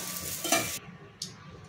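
Okra roasting with masala in a pan, stirred with a spoon in two short scraping bursts over a soft sizzle.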